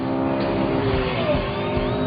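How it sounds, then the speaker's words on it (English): Race car exhaust roaring steadily at speed on a track's back straight after leaving the banked bowl, a loud, continuous engine drone with sustained harmonics throughout. "You can hear that exhaust."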